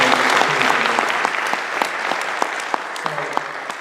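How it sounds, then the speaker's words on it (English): An audience at a film premiere claps steadily for a performance, a close, dense round of applause that thins slightly toward the end. "a round of applause here for the performance of this"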